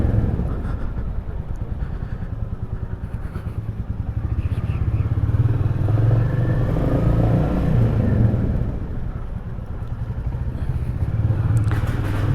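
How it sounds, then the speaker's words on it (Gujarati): A Royal Enfield motorcycle climbs uphill with its deep engine thumping in a steady, loud rumble close by, holding on throughout with a slight swell near the middle. "આ ગમે એટલા પહાડ ને બધું હોય ને આ ઇઝીલી બાઇક ચડી જાય"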